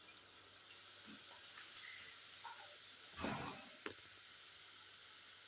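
Sautéed onions and soybeans frying in a pan with chili powder give a faint, steady sizzling hiss dotted with small crackles and pops, with no one speaking.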